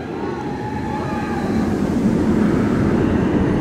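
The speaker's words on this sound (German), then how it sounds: "Die Achterbahn fährt vorbei. Und ja, hier unten launcht die jetzt gerade auch wieder." Roller coaster at Phantasialand launching and rushing past below a hotel terrace, a steady broad roar that swells after the first second and holds loud, with a faint tonal whine above.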